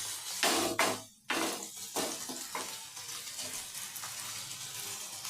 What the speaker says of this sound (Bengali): এরপর আমি খুন্তিতে করে মাছের গায়ে ভালোভাবে তেলটা মাখিয়ে নিচ্ছি।